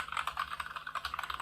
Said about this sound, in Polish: jak szybko klepiemy, to nakładka uderza o płytę,